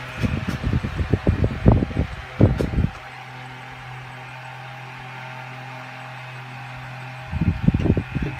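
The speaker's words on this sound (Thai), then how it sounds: "หมุนเร็วมากครับพัดลม" A 12-volt DC fan powered by an amorphous solar panel through a converter spins with a steady, smooth whirring hum and faint tonal whine, framed by brief bursts of rustling handling noise at the start and end.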